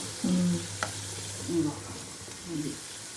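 Moong dal and rice flour mixture frying in a pan while being stirred slowly, giving a steady sizzle with a few scraping strokes of the spoon, close and moderately loud.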